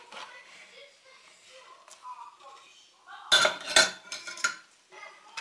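A metal spoon stirs a milky pancake batter with flour in a bowl, quiet scraping at first, then a burst of sharp clinks and knocks against the bowl, with soft speech faintly underneath.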